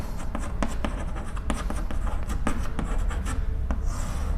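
Marker or chalk writing on a board during a chemistry nomenclature lesson, a continuous run of quick scratchy strokes and taps, close and fairly loud.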